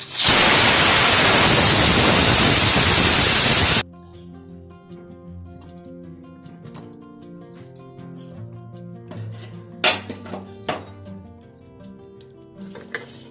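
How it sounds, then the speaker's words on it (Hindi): A pressure cooker of goat trotters is opened: a loud burst of hissing steam for several seconds, then sudden quiet with faint clinks and a couple of sharp metallic knocks nearby. "अब मैं प्रेशर कुकर को खोल के चेक करती हूँ।"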